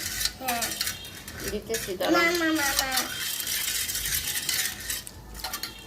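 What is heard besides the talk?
spoon stirring sugar into a drink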